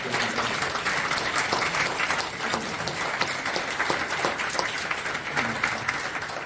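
An audience at a national assembly prayer breakfast and Liberation Day worship service claps continuously, a dense and even wash of applause that stays loud from start to finish.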